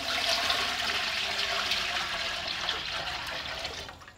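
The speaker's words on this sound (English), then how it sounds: "So let's add our water to it. We're going to put 1 gallon in." One gallon of water pours into a stock pot for DIY distilling, a steady close rushing splash that gradually eases and tapers off near the end.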